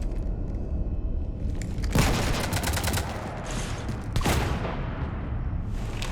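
Gunfire in the Mass Effect 3 video game's Citadel DLC: bursts of rapid shots with two loud booming volleys, crackling over a constant dense battle rumble.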